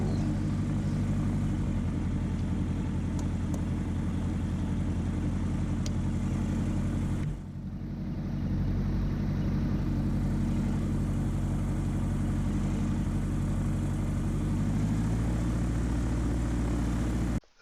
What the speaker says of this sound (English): start the process of shutting down and letting the engine cool.